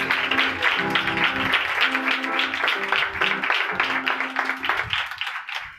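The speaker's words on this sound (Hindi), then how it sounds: "पाक रूह के लिए जोरदार तालियां" A congregation at a Hindi-language Christian worship service claps in a steady, rhythmic burst that runs throughout, mixed with sustained music or singing.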